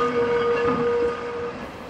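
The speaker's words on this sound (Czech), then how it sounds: "Jízda Drezínou do nedalekého Dempa." A rail draisine rolls along track on the Isle of Man, a steady mechanical rumble with a sustained tonal whine, close and loud, fading slightly toward the end.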